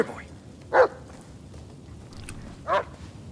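Two short dog barks in the Blair Witch video game, spaced about two seconds apart, fairly close and moderately loud over a low background hum.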